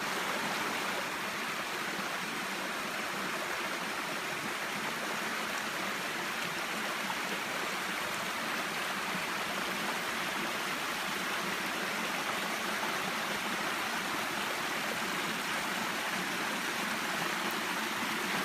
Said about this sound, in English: I'm here sitting on the bridge, just looking over the waterfall.